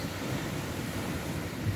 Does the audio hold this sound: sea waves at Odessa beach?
yes